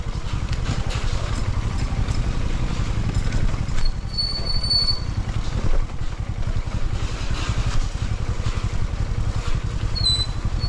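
A motorcycle engine churns steadily while the bike fords water on a remote rural route, a continuous close rumble with splashing texture throughout and no talk.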